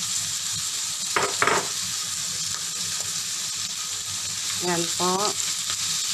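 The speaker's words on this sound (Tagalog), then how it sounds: "Lagay na natin yung cooked rice." Cooked rice sizzles steadily in a hot pan while being stir-fried for pork and ham luncheon meat fried rice, a constant frying hiss with a few brief voice sounds over it.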